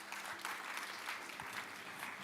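An audience at a Kenya–China trade week event claps after a speech, a steady, fairly faint wash of applause from a crowd across the whole moment.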